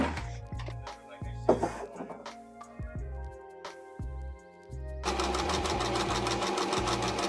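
A sewing machine stitches a small cut-off test piece of jersey fabric in short bursts, close and clear with no talk, then settles into a steady, louder continuous run of stitching.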